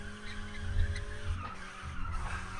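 A Mazda Miata doing a tire-squealing burnout, with a loud, steady engine drone and screeching tire noise that swells and dips over a couple of seconds, with no talking.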